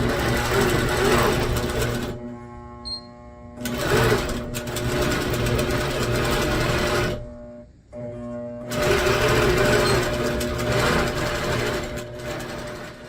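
A longarm quilting machine stitches binding onto a quilt with a steady, loud, rapid mechanical hum that runs in long stretches, stopping briefly twice before resuming.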